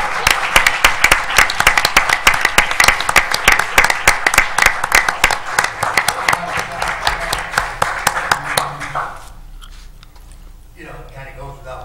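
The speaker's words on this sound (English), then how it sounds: "I would like to also welcome up Chuck and give him a round of applause for all his hard work." A round of clapping at a city council meeting in Romulus, brisk and fairly close for several seconds before it fades out abruptly into a quiet room where a voice begins.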